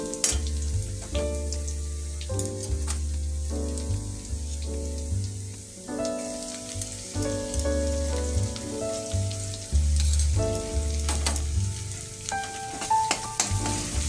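Garlic paste fries in oil with browned onions for chole, a continuous crackling sizzle with occasional stirring clicks, heard beneath louder background music.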